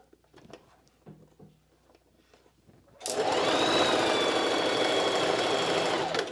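A sewing machine back stitching fabric for a pair of pants starts after a few seconds of faint handling noises, then runs as a loud, close, steady mechanical whir and rapid needle clatter until it stops at the end.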